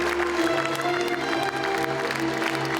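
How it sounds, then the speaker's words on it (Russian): A theatre audience gives enthusiastic applause for the soloists, dense and continuous clapping that stays loud the whole time, with no voices over it. "Понравилось всем, поэтому завершился он бурными аплодисментами в адрес солистов театра."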